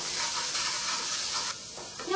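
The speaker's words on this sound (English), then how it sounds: "Now we will allow the onion to turn golden brown." Chopped onion with curry leaves sautéing in hot oil for a vendakka masala pachadi, giving a steady, close, broadband sizzle that holds throughout and eases slightly near the end, with no voices.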